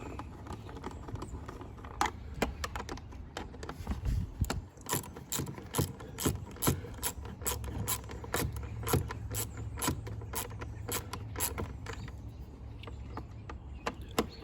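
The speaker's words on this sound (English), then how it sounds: "Now we just tighten them down. Go around, snug them all up." A ratchet snugs the air filter housing screws on a Ford Escape, producing rapid close clicking in repeated runs that continue steadily across the whole stretch with no talk.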